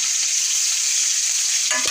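Liver coated in chili frying in a pan, a loud, steady hissing sizzle close by that drops away abruptly near the end with a brief clink.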